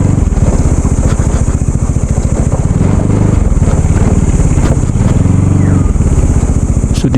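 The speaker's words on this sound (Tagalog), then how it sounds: "Okay, papasok yung motorcycle." A motorcycle rolls into a parking area at a monastery in Tarlac, its engine pulsing loud and close in a steady chugging rhythm throughout, with no one speaking.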